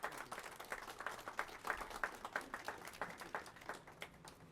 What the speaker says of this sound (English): So I think we should give a big shout out and a round of applause to developer Mike McKnight